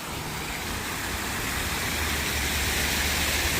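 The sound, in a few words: water splashing in a fountain pool in Transnistria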